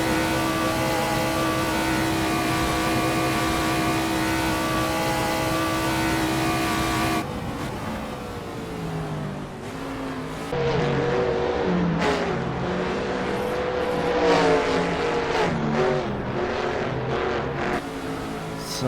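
A Formula 5000 race car in the Assetto Corsa sim, driven with a wheel and H shifter, screams at high revs with a dense harmonic engine whine, then drops through gear changes and rises again in repeated upshifts and bursts of acceleration.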